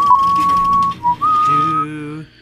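A person whistles a short melodic phrase up close, clear and steady, with a brief dip between notes before it fades out.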